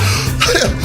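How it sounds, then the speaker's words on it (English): A single short cough, close and fairly loud, with a brief throaty rasp. "I had this little cough."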